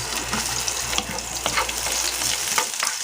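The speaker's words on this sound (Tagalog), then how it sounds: "Gisa natin yung bawang," Garlic and onion sautéing in a pan for a mixed vegetable dish make a brief, even sizzle with soft, irregular stirring clicks, heard close and alone.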